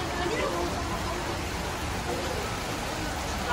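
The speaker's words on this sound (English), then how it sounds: "It's been raining, like, everyday." Steady heavy rain pours outside a high school on the first day of classes, a dense, unbroken hiss close by that carries on throughout without a break.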